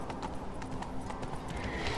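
A horse gallops in the video game The Witcher 3, its hooves beating a steady, fast clip-clop that runs continuously over a dense background.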